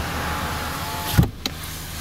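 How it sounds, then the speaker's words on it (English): Ford Mondeo 1.5 EcoBoost power window moving, a short close whir cut off by a sharp click and a second faint click after it, over quiet cabin background. "Automatic windows."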